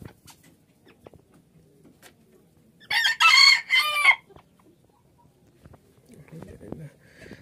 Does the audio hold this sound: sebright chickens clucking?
yes